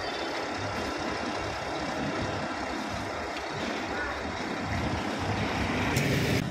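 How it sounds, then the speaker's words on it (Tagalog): A full dump truck collecting garbage during a street cleanup in Manila gives off a steady, close engine rumble and broad road noise that swells slightly toward the end. "So ayan, may isang dump truck, punong-puno na"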